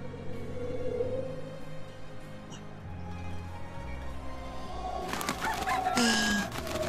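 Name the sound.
chicken clucking in the video game Alterium Shift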